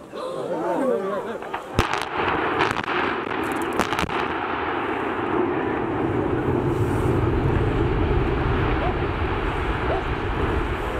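Explosive demolition of the Didcot Power Station cooling towers, heard from a distance as a few sharp cracks followed by a long, low rumble under crowd noise and voices.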